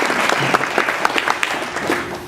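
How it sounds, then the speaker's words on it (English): A tourism-event audience gives the NOTMC board members a brief, dense round of applause, loud and continuous for about two seconds with faint voices in the crowd. "let everyone give you a round of applause"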